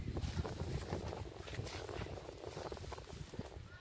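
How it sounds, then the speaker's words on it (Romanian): Wind blows through an apple orchard during tree pruning, a steady rushing buffet across the microphone with no clear pauses. "Sper să mă aud că bate puțin vântul."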